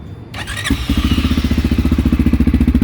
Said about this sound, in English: Let that bike go by.